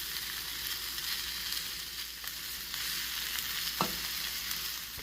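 Gyro meat browns in a hot pan on a pellet grill, giving a steady soft hiss of sizzling fat with an occasional clink or scrape and no voices.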